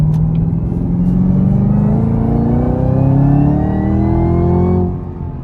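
Inside a Chevrolet Camaro ZL1 with a supercharger, the engine pulls in a smooth rising drone with a climbing whine on top. It is loud and steady, then eases off at the end, with no speech.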